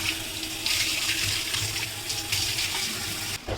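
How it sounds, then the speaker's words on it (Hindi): A whole fish is rinsed under a running tap, giving a steady close rush of water with splashing shifts as it is handled, cut off sharply just before the end, with no talking. "हम मछली को थोड़ा सा धोते हैं"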